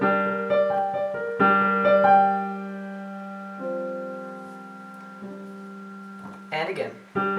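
Piano playing a simple figure from a song on black and white keys, sustained notes struck in a slow sequence, close and moderately loud, with a brief burst of talk near the end.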